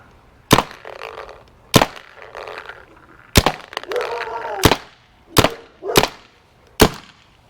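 A Spyder MR1 paintball marker fires old paintballs, producing about seven loud, sharp cracking shots at uneven intervals, each followed by a brief rattling tail.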